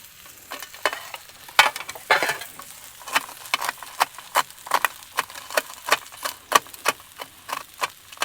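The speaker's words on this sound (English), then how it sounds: "Do a little chop, chop, chop right here on this bacon." Bacon being chopped with a spatula on a sizzling griddle outdoors by a riverbank: a run of sharp, irregular metallic taps and scrapes, fairly close, over a steady low sizzle.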